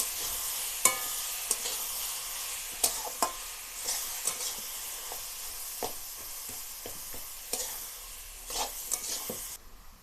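Spices for a sweet, sour and spicy tamarind pickle sizzle and hiss in hot oil, with a steady frying crackle broken by repeated clinks and scrapes of a stirring spoon against the pan.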